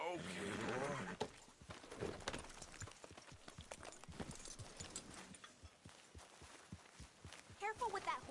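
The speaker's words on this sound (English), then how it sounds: "Careful with that horse, Arthur." A horse in Red Dead Redemption 2 clops along with hoof steps and a whinny, faint and fairly close, with game ambience and a voice around it.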